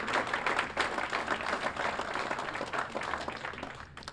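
An audience at a school hall of fame induction ceremony applauds in a large hall, a sustained, moderately distant wash of many hands clapping that stays steady and fades slightly at the close.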